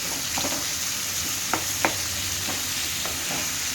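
Onions softening and frying in a pan for a tangy, spicy egg curry: a steady close sizzle with a few sharp stirring scrapes and clicks, no voices.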